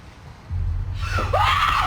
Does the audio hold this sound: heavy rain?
no